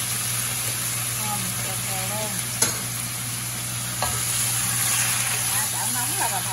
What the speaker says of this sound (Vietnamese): Xào bò nha.